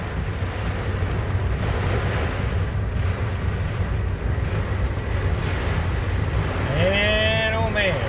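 A summer thunderstorm drives strong wind over Patoka Lake in southern Indiana, a loud continuous rushing roar with heavy gusts buffeting the microphone, and a faint tonal whine rising near the end.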